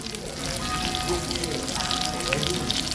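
Steady, crackling sizzle of beef intestines frying on a hot grill, continuous and close, with fat popping throughout.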